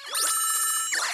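An electronic telephone ring sounds in the Pokemon Masters mobile game, a bright sustained trilling tone with a short warbling burst near the end, loud and clear with no voices.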